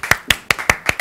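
Hands clapping in a steady rhythm as a guest pianist is welcomed onto a Turkish studio show, about six sharp, close claps spaced evenly with no voices over them.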